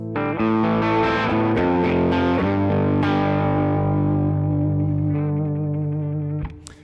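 Electric guitar chord ringing out with distorted, effected tone, pitch wavering with vibrato before fading and cutting off.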